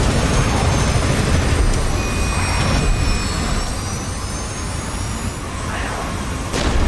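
A damaged jet aircraft's engine roars as a steady, loud, unbroken drone with whining tones above it, from a DCS World combat flight game.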